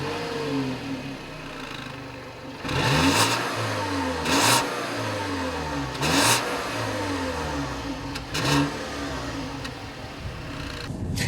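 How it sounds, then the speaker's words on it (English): A 2015 VW Passat's 1.8-liter turbocharged four-cylinder revs repeatedly from idle, four or five sharp blips rising and falling over a steady low hum, heard from inside the car with no talk. "I like to hear the engine rev"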